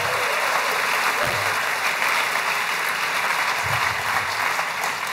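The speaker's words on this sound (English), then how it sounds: "join me in a big round of applause for the Wheeler Centre hitting its fifth birthday" A theatre audience bursts into a big, sustained round of applause at a gala celebrating the Wheeler Centre's fifth birthday, dense clapping filling the hall steadily from start to finish.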